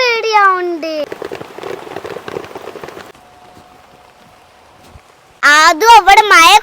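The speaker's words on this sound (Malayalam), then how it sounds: "നല്ല മഴയാണ്" Rain patters and splashes densely for a couple of seconds, with children's voices talking before and after it.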